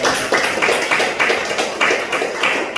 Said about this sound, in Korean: 오늘 우리 찬양 받으신 하나님께 박수로 영광을 올려드립니다